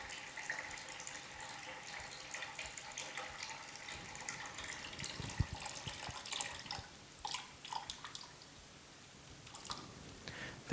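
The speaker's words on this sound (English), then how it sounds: "we're going to measure 24 ounces of water and pour that into a container." Water is poured into a container to measure 24 ounces for an epoxy table build, a steady, soft trickle with small splashes and drips heard close by.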